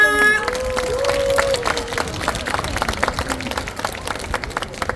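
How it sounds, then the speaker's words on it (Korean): An audience claps at a neighborhood residents' community festival in Korea, a scattered, moderately loud patter with some tonal sounds at the start, then individual claps thinning out toward the end. "다시 한 번 응원의 박수 부탁드립니다"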